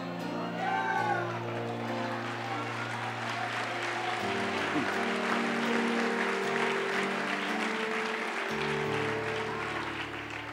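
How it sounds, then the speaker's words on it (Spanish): Congregation applauding at a church service, a dense steady wash of clapping throughout, with sustained organ or keyboard tones and a voice sounding underneath. "Yo no sé por qué está aplaudiendo."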